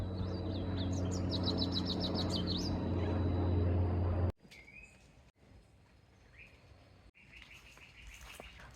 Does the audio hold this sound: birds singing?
yes